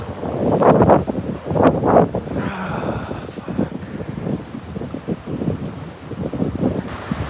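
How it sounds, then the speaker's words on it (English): Waves on a lake whipped up by strong wind roll and splash in repeated surges, with heavy wind buffeting the microphone throughout. "The waves are 3 times the size they were yesterday."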